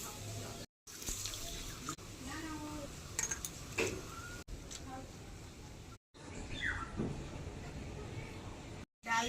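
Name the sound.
washing broken rice and masoor lentils together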